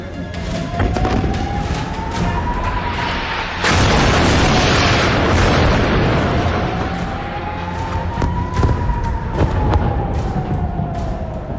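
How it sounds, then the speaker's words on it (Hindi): Missile strike explosions in Gaza, heard as heavy, continuous booming rumble with sharper bursts under a rising and falling siren-like tone, loud and dense throughout. "फिर गिरी मिसाइलें।"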